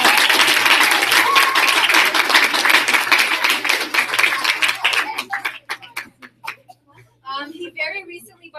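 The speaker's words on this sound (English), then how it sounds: "let's give him a round of applause" Audience applause and clapping swell densely at first, then thin into scattered claps and fade, followed by a voice speaking at the end.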